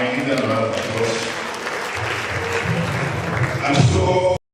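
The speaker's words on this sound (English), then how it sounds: "The cultural troop one more time, give them a round of applause." An audience at an independence anniversary lecture applauds a cultural troupe, steady clapping throughout with a voice speaking over it and a louder swell near the end before an abrupt cut.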